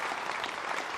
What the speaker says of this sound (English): The crowd acknowledging that was the key ball.